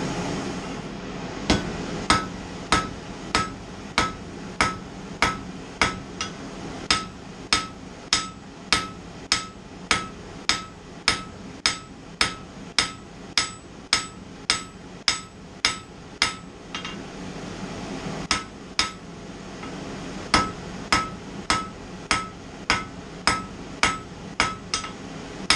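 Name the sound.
hammer striking metal on anvil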